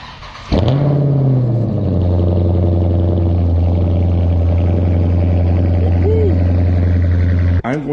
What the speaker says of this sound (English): I gotta give you that cold start, because the car's been sitting all day